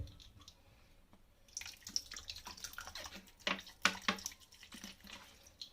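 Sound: pouring white vinegar for washing vegetables

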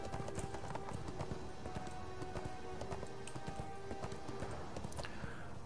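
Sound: horse hooves clip-clopping in ArcheAge video game

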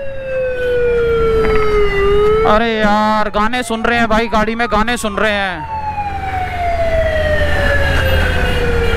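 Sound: ambulance siren stuck in Delhi traffic

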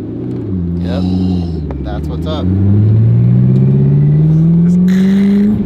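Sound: 1100 hp twin-turbo Ford GT engine revving

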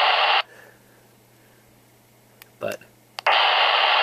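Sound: background static noise from a Baofeng UV-3R radio with squelch lowered

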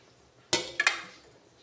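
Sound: mixing cooked pasta into salad with mayonnaise

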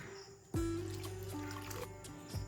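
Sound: water poured into flour for paratha dough

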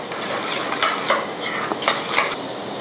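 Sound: stirring sauce mixture until sugar dissolves

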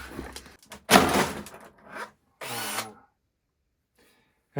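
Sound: impact driver with larger chuck driving a screw

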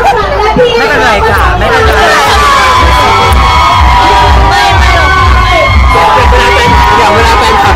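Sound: crowd screaming loudly to welcome a celebrity

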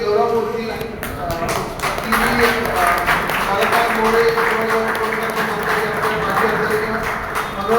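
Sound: audience applause at award ceremony

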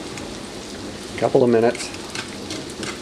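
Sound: walleye pickerel fillets frying in a pan

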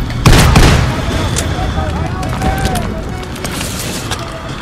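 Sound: grenade explosion in the video game Call of Duty: World at War

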